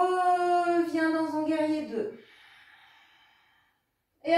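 Slow, deep breath during a yoga warrior pose, following a woman's calm spoken instruction and fading to near silence before speech resumes.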